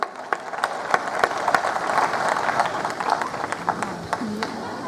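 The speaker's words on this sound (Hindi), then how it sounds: "अब एक बार दोनों हाथ ऊपर करके ताली बजाकर बताइए कि आप लोग कवि सम्मेलन सुनने के मूड में आ गए हैं।" An audience at a Hindi poetry gathering claps with hands raised, loud dense clapping with a few sharp individual claps standing out, close and continuous throughout.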